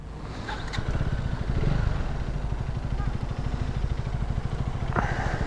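A motorcycle rides off-road on a rural trail, its engine a steady rapid chugging pulse throughout, close and continuous with some clatter.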